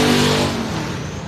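A factory stock race car on a qualifying lap at Sabine Speedway roars loudly past, its engine note sweeping down as it moves away.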